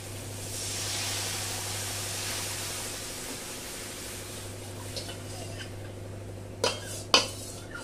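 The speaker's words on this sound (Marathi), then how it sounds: "आता याच्यामध्ये ही जी कढी आहे केलेली ही ओतूया" Gujarati kadhi is poured into a pan in a home kitchen, giving a soft, steady liquid rush over low background hum, followed by a couple of sharp utensil clinks near the end.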